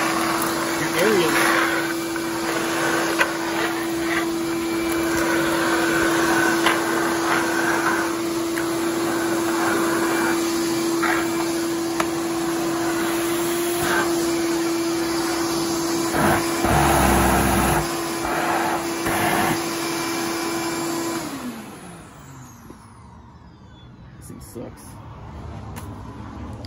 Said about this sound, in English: It's a vacuum.